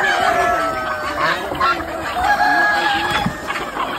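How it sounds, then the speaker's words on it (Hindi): Several desi village chickens cluck and a rooster crows nearby, overlapping calls in a lively farmyard chorus, with a faint voice in the background. "देखो भैया कितने सारे मुर्गे और ये सब इधर बैठे हैं।"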